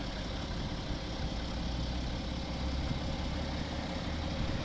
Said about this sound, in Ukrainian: Три літра шестициліндровий меганадійний цей двигун від BMW